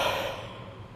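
A person's yawn, an audible breathy exhale that fades over about a second, close and fairly soft.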